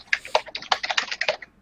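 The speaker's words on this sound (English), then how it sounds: "Furious typing part 2." Rapid, furious clatter of keys on a computer keyboard, a dense burst of loud individual keystrokes for under two seconds, close and alone without any voices.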